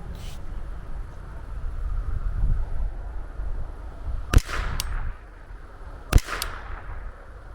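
Two sharp rifle shots at a semi-mild steel target outdoors, each a loud crack about two seconds apart with a short ring-off, over steady wind rumble.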